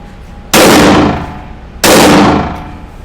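Two loud, sharp handgun shots during a shooting drill, each a sudden crack with a long echoing decay, spaced over a second apart, with no talk.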